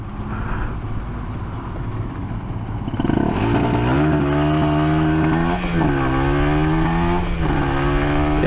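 A Suzuki GSR 400 motorcycle engine with dual exhaust starts up and revs, its pitch climbing and dipping through several throttle blips, loud and close.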